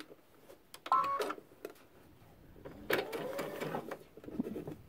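Fabric is stitched on a sewing machine for a Christmas stocking in short, faint bursts mixed with clicks and handling, with a longer quiet run of stitching toward the end.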